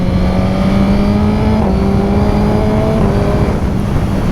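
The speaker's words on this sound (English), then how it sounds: "The engine is really good, really smooth, and I think it's got plenty of bottom end grunt." A 2019 Suzuki GSX-R1000R motorcycle engine pulls hard under acceleration, its rising harmonic drone loud and close, with brief shifts in pitch as gears change, and no voices over it.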